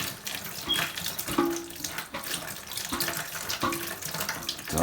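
Water rushes steadily into a toilet tank as it refills through a Korky fill valve, a continuous splashing hiss with slight surges, close and moderately loud, with no voices.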